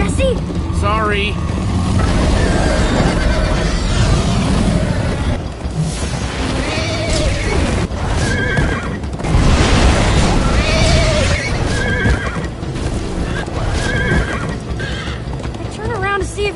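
Galloping horse hooves and repeated neighs during a chase in the Minecraft Story Mode video game, loud and continuous with rumbling booms, while characters talk over the action.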